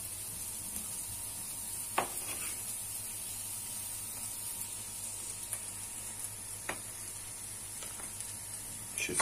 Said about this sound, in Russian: И будем пассеровать.